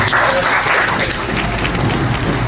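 A group of workers at a construction safety training gives a short burst of dense applause for a colleague, loud and close, with no gaps.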